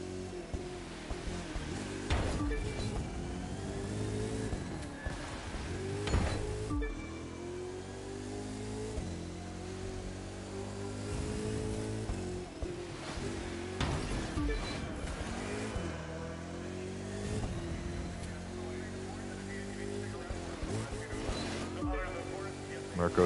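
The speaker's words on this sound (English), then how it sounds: "It's kind of hard to drift in these touring cars." A touring car drives and drifts in The Crew 2, its engine revving up and down in repeated sweeps with gear changes, loud and continuous while someone talks over it.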